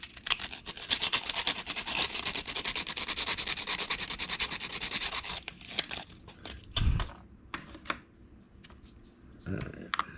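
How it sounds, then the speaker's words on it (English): Sandpaper rubs the chrome off a small plastic Revell 1/32 Mack R Model truck part in quick, close, rhythmic strokes for about five seconds, then a few scattered handling taps and scrapes. "I'm going to sand the chrome off."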